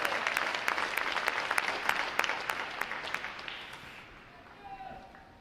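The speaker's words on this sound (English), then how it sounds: "how about another round of applause for our unit individual award?" A crowd applauds at a Navy boot camp graduation ceremony, steady massed clapping with a few sharp individual claps, tapering off near the end as a voice comes through.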